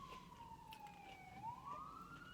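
Ambulance siren passing outside, a faint wailing tone sweeping down then back up, distant and quiet over low background hum, with no talk.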